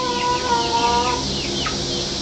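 A mixed farm flock of chickens, including a Buff Orpington rooster, clucks and murmurs nearby in a continuous, overlapping chatter, with a few sharper calls rising above the flock.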